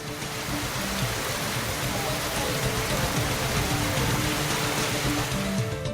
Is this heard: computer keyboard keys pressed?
no